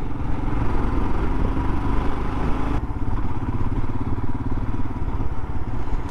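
A Royal Enfield Himalayan adventure motorcycle engine runs with a continuous mid-pitched thrum and clatter close by, steady in level with a slight shift partway through, and no talking.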